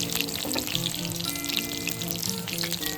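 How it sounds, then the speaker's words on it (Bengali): Moringa flower pakoda fry gently in hot oil, a close, steady bubbling sizzle with small crackles running unbroken for a few seconds and no voices. "ধীরে সুস্থে একটু হালকাভাবে একটু ভেজে নেবে উপর চারিদিকটা"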